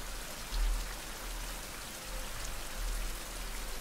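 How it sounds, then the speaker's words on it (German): Rain keeps falling in a survival video game, a soft, steady patter of raindrops on surfaces forming a quiet continuous wash with no voices. "Regnet immer noch"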